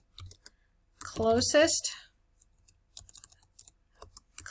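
Clicks of typing on a computer keyboard come in sparse, light bursts before and after a short stretch of talk, near and fairly quiet.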